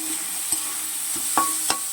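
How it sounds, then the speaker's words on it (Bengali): Potato, pointed gourd and bitter gourd fry together in a pan with a light, continuous sizzle, broken by a few sharp clinks and scrapes of a utensil against the pan. "আলু পটল করলা তিনটে ভাজা হয়ে যাচ্ছে"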